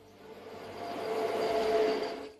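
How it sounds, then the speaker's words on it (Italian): A train passes along a railway line running beneath a fractured rock face, a steady broadband rumble that swells from moderate to loud over about two seconds before fading slightly, with no voices. "Come vedete, il treno passa qui sotto."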